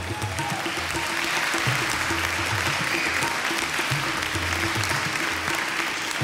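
Audience applause at a live Punjabi and Urdu music show in London, dense and sustained clapping filling the whole stretch at even loudness, with no voices.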